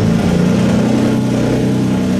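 A Nissan GT-R engine runs in reverse gear with a continuous mid-pitched rumble and slight rhythmic pulsing, close and steady throughout.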